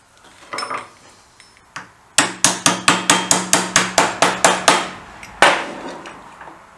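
A metal part for a BSA B44 trials motorcycle is tapped from round to oblong with a hammer, a few scattered knocks followed by a quick even run of about a dozen sharp ringing blows and one last strike.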